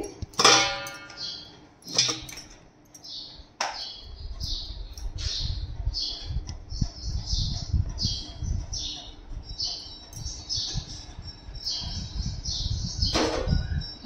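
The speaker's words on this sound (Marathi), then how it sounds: "आता हे कुकरमध्ये मी खुरं टाकून राहिली।" Mutton trotters for a Saoji-style khur dish are dropped into a pressure cooker, giving a few sharp metallic clanks spread through the stretch, with a low rumble and steady bird chirps in the background.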